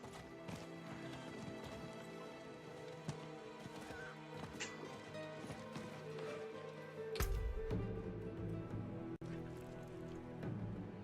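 A horse neighs loudly over a continuous patter of galloping hooves in the video game Diablo IV: Vessel of Hatred, the clip-clop rhythm steady throughout with a brief louder thud near the end.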